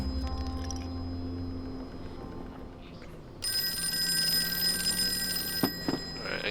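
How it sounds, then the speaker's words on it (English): A phone rings in the horror video game Ring Ring Cthulhu Calling, shown as steady tonal electronic ringing over a low game ambience; the tone cuts in brightly partway through and runs to the end, with a couple of short clicks near the close. "Alright, I guess we can answer the phone now."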